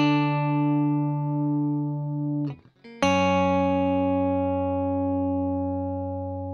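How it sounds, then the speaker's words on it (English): A second electric guitar part of a song rings out as sustained held chords, a long decaying chord, a brief muted scrape, then another struck chord left to ring, close and clear. "And I heard another guitar going like this."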